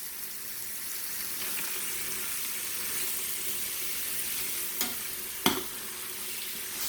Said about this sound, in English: Throwing some butter in. Let that melt down a little bit. We're throwing our onions in.